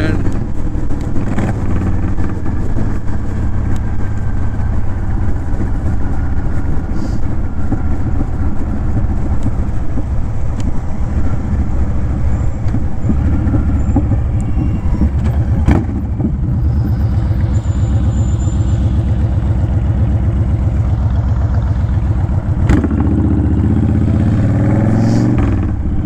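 A Honda Fury motorcycle with Cobra Speedster pipes rumbles continuously and loudly while riding, with a deep steady engine drone and occasional wind and clatter.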